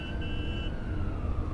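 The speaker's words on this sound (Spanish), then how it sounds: "se escuchó el ruido de una ambulancia" An ambulance siren wails in a steady tone over a low rumbling road background, fairly distant and continuous.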